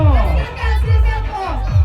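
A crowd at an 18th birthday debut celebration shouts and cheers in loud repeated bursts, voices overlapping in a noisy, energetic roar.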